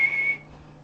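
A voice imitates a whistle with a thin, steady tone held for about a third of a second, then cuts off into a quiet room.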